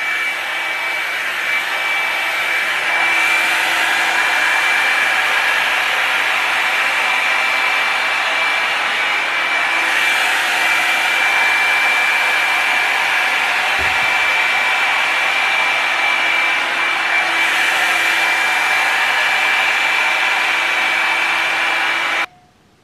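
A Revlon One Step Volumiser hair dryer runs on its low setting, a steady, fairly loud whoosh with a constant whine that shifts slightly a few times before cutting off near the end.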